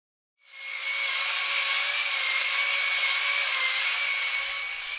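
A power sander works over wooden deck rails and balusters, starting after a brief silence and holding one steady, close, loud whine with a broad rasping hiss for the rest of the clip. No one speaks.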